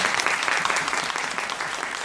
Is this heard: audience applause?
yes